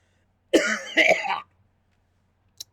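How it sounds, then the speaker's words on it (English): A single close cough with a throat-clearing rasp, two bursts back to back, then silence and a faint click. "I'm going to be coughing a few times in this podcast."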